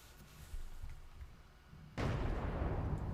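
Cannon blasts in a video game battle, a muffled boom near the middle followed by a sudden, much louder burst of explosive noise that rumbles on to the end.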